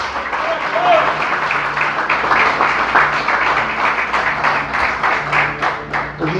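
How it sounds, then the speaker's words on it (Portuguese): A church congregation claps louder in praise during a Portuguese-language sermon, a sustained, dense patter of many hands that carries on beneath voices and scattered shouts throughout. "Aplaude o Senhor mais forte."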